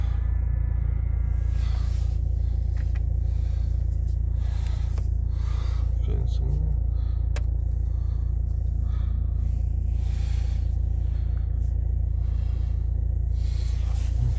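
A 2011 Opel Astra J with a 1.7 CDTI diesel engine idles just after a cold start at minus 9 °C, helped by a Webasto preheater. It makes a steady, close, low droning hum that holds unchanged throughout.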